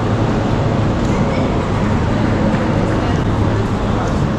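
High-speed train running near Novi Sad, Serbia, heard as a loud, steady rumbling roar that holds without a break throughout.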